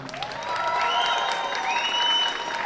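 Concert crowd at a school winter band performance breaks into clapping mixed with high cheers and whoops, steady and moderately loud for a couple of seconds.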